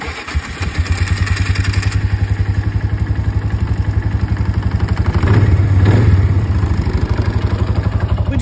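A four-wheeler ATV on new tires pulls away, its engine running loud and close with a steady throbbing beat that swells as it revs.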